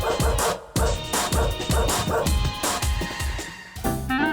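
Several dogs barking and yipping in a Greensboro pet business, a dense run of overlapping barks with short gaps, close and fairly loud throughout.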